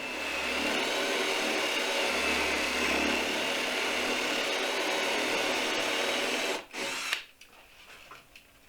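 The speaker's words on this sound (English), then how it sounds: "I'm going to drill a 1 1/4 inch hole" Power drill boring a 1 1/4 inch hole into a wooden farmhouse table post, a steady loud whine lasting several seconds before the motor stops abruptly, with a short clunk afterward.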